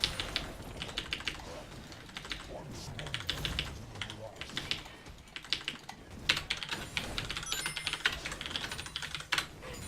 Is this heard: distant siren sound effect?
no